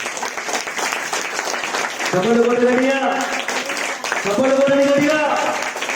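A church congregation claps steadily through the clip, broad sustained applause from a crowd, while a preacher's amplified voice carries on over it.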